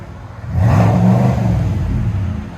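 2021 GMC Sierra AT4 6.2L V8 with a Flowmaster Super 10 exhaust revs up to the limiter, a loud, close, deep exhaust roar held for about two seconds before easing slightly.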